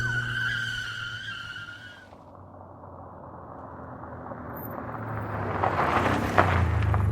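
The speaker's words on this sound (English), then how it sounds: "put the pedal to the metal. We raced forward." A truck in an audio drama speeds away. Its engine rumbles and builds while the tires skid and squeal, growing louder and closer over several seconds.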